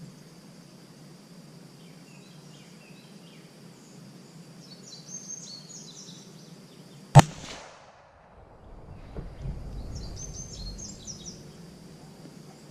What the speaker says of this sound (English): Muzzle brake is loud.